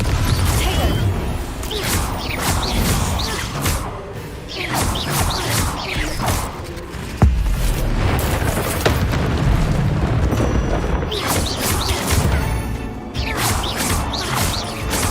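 Confringo blasting spells explode repeatedly in a Harry Potter video game, a run of loud booms and crashing bursts with whooshes and mechanical clatter, heard over game audio with a voice speaking intermittently.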